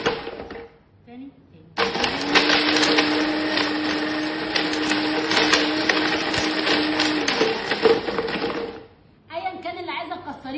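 A blender roars to life for several seconds, grinding and rattling hard pieces of porcelain, then switches off; brief quiet before and after.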